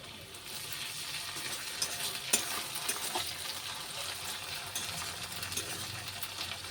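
Ground spice paste sizzles with browned onions in a pan, a steady close crackling fry with occasional stirring clinks and scrapes.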